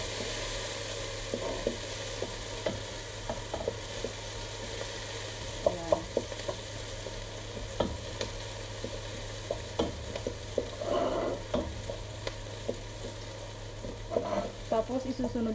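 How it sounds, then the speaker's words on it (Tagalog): Garlic and onion sautéing in a pan for sausage spaghetti give off a steady, close sizzle, with repeated clicks and scrapes of stirring throughout and no talking. "So, lagay na natin ang ating bawang, ay ating sibuyas. Iligisa muna natin ng kunti."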